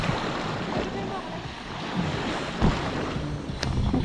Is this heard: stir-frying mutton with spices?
no